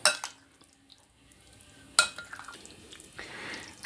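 Chicken tikka marinade is stirred in a bowl with a spoon, giving sharp clinks of utensil on dish at the start and midway, then soft, wet mixing and scraping sounds, close and fairly quiet.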